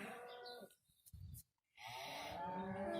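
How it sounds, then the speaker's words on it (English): Cows moo on a farm during feeding: a deep, drawn-out moo rises near the end after a short low call, with a higher voice or animal cry at the start and quiet gaps between. "I think there's a bunch of happy cows there."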